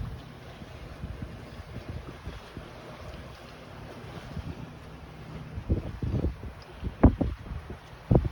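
A sailboat moving slowly through calm water on the Bahama Bank in an 11-knot breeze, with soft wind rush and gentle lapping, then a few sharper splashes and knocks near the end.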